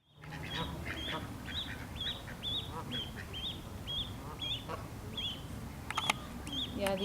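Ducks resting on land beside a greenway trail quack in a rapid repeated series over outdoor background noise, moderately near, with faint human voices mixed in.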